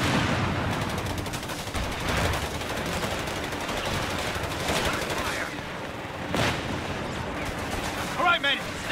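Heavy machine gun and rifle fire on a road in Company of Heroes 3, a continuous rattling fusillade with occasional louder cracks, mid-distance and steady, with a faint voice near the end.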